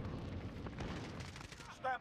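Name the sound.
gunfire from AN-94 in Call of Duty: Modern Warfare video game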